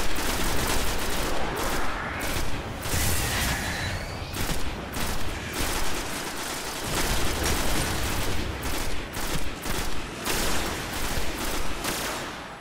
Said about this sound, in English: fusion rifle to the face